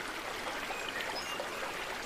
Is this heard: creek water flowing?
yes